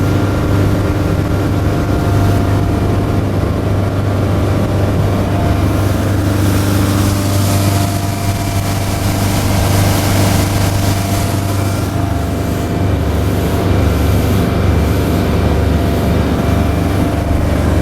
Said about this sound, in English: It takes nothing to get this boat to plane out.